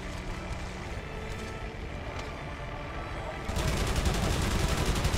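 Machine gun fire in the Wings of Prey flight combat game, a rapid rattling stream over steady aircraft engine drone that jumps louder and denser for the last couple of seconds.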